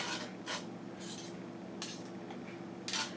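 Garlic scraped off the back of a metal rasp grater: a few short, soft scratching strokes spaced irregularly, close and quiet over faint room hum.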